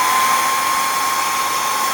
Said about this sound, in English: to speed up the drying process, I'm just going to use a hair dryer that I have on hand for crafting